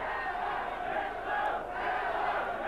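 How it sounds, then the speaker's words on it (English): A large crowd at the 1983 darts world final between Eric Bristow and Keith Deller roars and chants in a continuous, loud, echoing din that swells briefly midway, with no talk over it. "The crowd."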